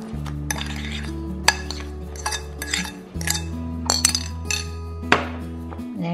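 Potato cake batter of mashed potato and tapioca flour stirred smooth in a bowl, with a spoon clinking and scraping against the sides in irregular taps over a steady low hum.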